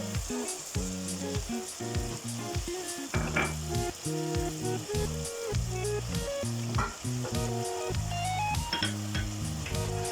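Tomato puree and ketchup hit a hot pan of stir-fried vegetables for chicken shashlik, sizzling loudly and steadily. A spatula scrapes and knocks against the pan in a regular stirring rhythm, with no talk.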